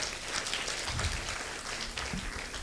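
Audience applause for a speaker at the KCPA International Scientific Conference, a steady broadband clatter of many hands that holds at an even, moderate level for the whole stretch without a clear start or finish.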